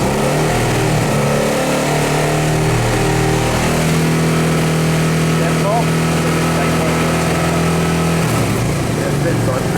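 Hyosung GT 650 R Comet motorcycle engine held at raised revs around 5000 rpm during a charging system check, a loud, steady, close mechanical drone that continues throughout with no breaks.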